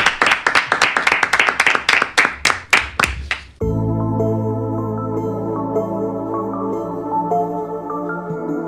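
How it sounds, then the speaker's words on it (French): A live audience claps in a brisk, rhythmic burst of about a dozen sharp claps, then stops abruptly as sustained music takes over. "on pratique l'applaudissement de confiance"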